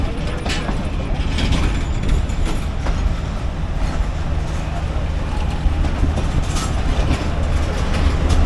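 Railcar train running out of Lahore, a steady loud rumble with rattling mechanical clatter throughout, with voices over the noise.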